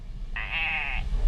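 A single clear bleat from a goat or sheep on a hillside near Grindelwald, Switzerland, lasting under a second, wavering and fairly close against quiet outdoor background.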